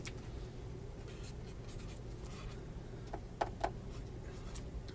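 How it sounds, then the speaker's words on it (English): Handwriting an answer during a trivia game, faint steady pen-on-paper scratching over a low background hum, with a couple of brief louder taps near the end. "You gotta write it down,"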